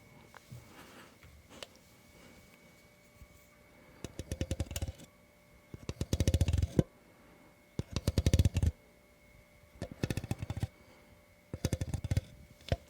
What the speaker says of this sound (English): Who knew an Apple Pencil could make such great ASMR?